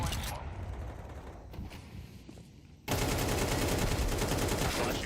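Gunfire in a Counter-Strike match, a loud continuous burst of automatic shots that swells sharply midway, with game noise beneath and no talk.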